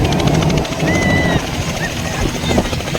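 A helicopter lands at a political movement event in Dagupan, Pangasinan, its loud thudding rotors and engine roar dominating up close while people's voices sound faintly beneath.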